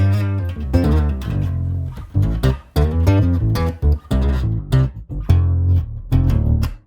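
Bass guitar played through a TC Electronic BH800 amp head with an octave effect, a loud, close melodic line of punchy plucked notes with deep doubled low tones, played alone with short gaps.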